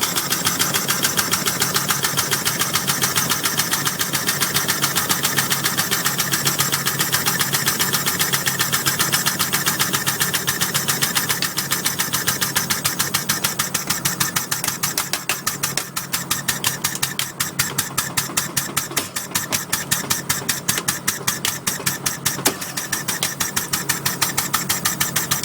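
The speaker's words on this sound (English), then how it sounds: "all we do is turn the ball valve and it starts pumping itself down" A hydraulic pump runs steadily on a shred truck rigged with a hard drive punch, a loud, continuous mechanical drone with a rapid ticking pulse that grows more pronounced in the second half.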